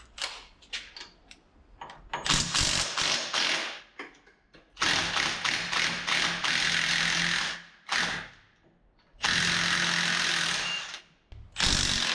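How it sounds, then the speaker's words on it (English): A ratchet works loose a bolt on the engine of a 1989 R3500 truck, clicking in rapid close bursts of varying length separated by short pauses, with no talking. "If I can break this loose without stripping the bolt out."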